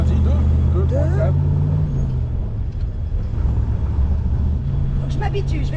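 A Corvette C1 being driven gives a continuous low engine rumble and road noise from inside the car, with people talking over it.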